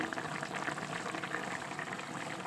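Spring onion curry bubbles in a pot, a soft, continuous close-up burble of boiling with dense small pops, fairly quiet and with no talking.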